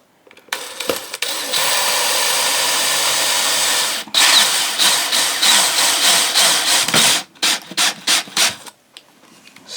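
A power drill drives a screw into a top, offset from the pre-drilled hole underneath, running steadily and loud for several seconds and then finishing in a series of short, stuttering bursts as the screw seats snugly.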